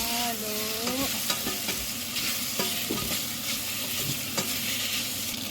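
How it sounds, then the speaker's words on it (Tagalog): Black noodles stirred in a hot pan for simple pasta, with steady sizzling frying and repeated scraping, clattering strokes of a utensil against the pan, close and continuous. "ilagay na natin ang ating black noodles. Halo-haloin na natin."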